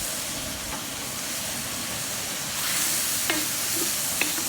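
Pork browns in a large jambalaya pot holding about five gallons, a steady dense sizzle with a few faint scraping clinks from stirring, no voices.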